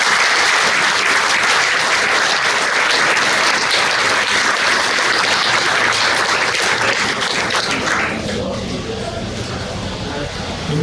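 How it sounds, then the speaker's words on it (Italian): A big audience claps continuously at a gold award ceremony, loud and even for most of the stretch, then thinning and softening near the end. "Ancora un applauso a Don Sergio Sacco Sonadoro."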